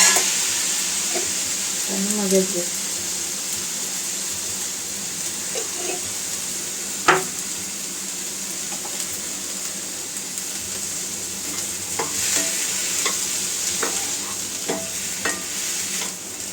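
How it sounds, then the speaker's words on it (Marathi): Eggs and vegetables fry in a pan with a constant bright hiss and sizzle, punctuated by occasional scrapes and taps of a stirring spoon, close up with no talking. "ते फ्राय करून घ्यायचे आपल्याला"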